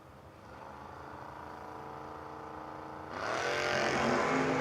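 Drag race cars, including a Camaro, at a no-box 660 shootout: a steady engine drone heard from a distance, which swells sharply into a louder, rising roar near the end.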